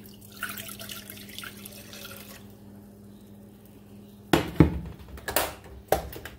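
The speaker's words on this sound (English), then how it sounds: "You pour your water in there." Water for violet syrup is poured from a measuring cup into a cooking pot, a brief splashing pour after a softer trickle, close by in a kitchen with a steady background hum.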